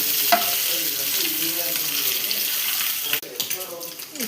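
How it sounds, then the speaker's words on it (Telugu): Eggs roast in a hot pan with a steady sizzle and frying crackle, then a short clatter of stirring near the end. "ఇలా మనం ఎగ్స్ని రోస్ట్ చేసుకోవాలి"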